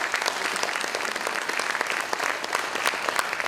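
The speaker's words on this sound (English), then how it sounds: "give them a round of applause today" Applause from the audience at the Romulus State of the City address for the corporate sponsors of a community cleanup, a dense, steady patter of many hands clapping at moderate volume.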